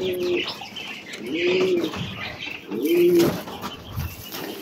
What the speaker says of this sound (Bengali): এগুলো হচ্ছে কোয়েল পাখি, যাদের বয়স 25 দিনের মতো